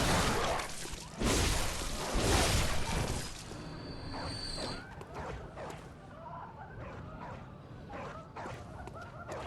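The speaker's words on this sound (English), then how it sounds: "Okay, dog." Dog barking in the dark gothic action game Bloodborne: a few loud, sharp barks in the opening seconds, then quieter scattered game noises, with no talk.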